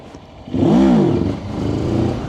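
A CFMOTO 700MT motorcycle engine revs up sharply, rising and falling in pitch over about a second, then settles into a steady loud drone as the bike pulls away.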